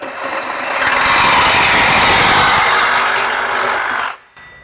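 A power tool cuts through the exhaust pipe of an MK8 Golf GTI, a loud, steady, harsh grinding whir held for about four seconds before it abruptly stops, close up.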